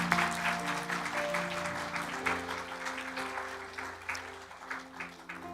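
Steady applause from a church congregation at a Sunday service, sustained and fairly loud, with organ or keyboard tones holding underneath throughout.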